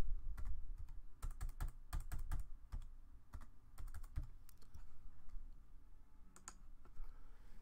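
Close, crisp clicks of a computer keyboard as a part number is typed in irregular quick bursts, heard alone in a quiet room.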